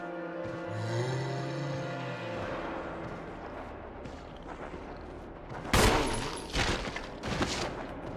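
Gunfire from the Resident Evil survival horror video game, with a few loud, sharp shots near the end that stand out from a rumbling game soundtrack.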